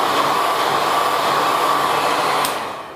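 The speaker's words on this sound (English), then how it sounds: "you can take a blow dryer and just really lightly wave the blow dryer over the sheet of beeswax" A blow dryer is waved lightly over a sheet of beeswax, its steady broadband whoosh running loud and close for nearly three seconds before tapering off.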